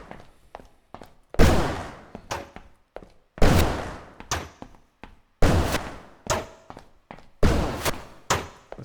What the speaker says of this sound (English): also got this little demo of a